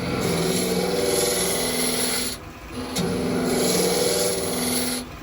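A turning tool scrapes and cuts wood on a lathe, working the larger diameter of a turned magician's ball-and-vase piece. The close, continuous rasping cut breaks off briefly twice, then resumes steadily, with no talk.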